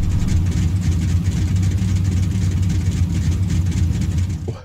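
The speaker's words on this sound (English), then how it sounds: "The idle sounds crazy on this thing." A Mercedes built as a sleeper in Forza Horizon 5 idles with a loud, lumpy, cammed-sounding burble, steady and close until it cuts off at the end.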